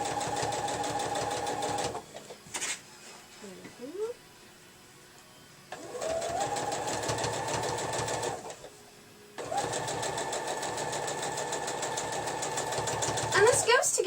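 Sewing machine stitching denim circles together for a jean circle quilt, running in three loud steady bursts separated by short pauses, with quiet handling noise in the gaps.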